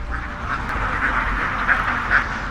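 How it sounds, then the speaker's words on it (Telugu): A flock of ducks let out at a rural home quack loudly and steadily nearby, with repeated nasal calls over a constant background hum. "తమ్ముడు మీ బాతులన్నీ బయటకు వచ్చేసినాయి"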